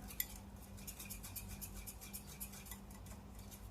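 A spoon stirs a creamy macaroni sauce made with liquid cream, giving faint, soft, repeated scraping and clinking in a loose rhythm over a low background hum.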